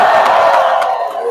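A large political rally crowd in Butler, Pennsylvania cheers and shouts, a loud sustained roar with rhythmic swells like chanting.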